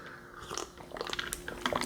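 Chocolate-covered crickets and ants being bitten and chewed up close, a run of sharp crunches and gritty mastication sounds over about two seconds, no talking.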